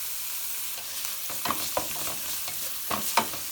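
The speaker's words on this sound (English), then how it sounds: "We want it just a little bit to be fried, so the taste will go in the oil." Parsley frying in a pan of oil for an Armenian vegetarian appetizer, giving a steady soft sizzle with a few sharper stirring scrapes and clicks, close and alone with no talk.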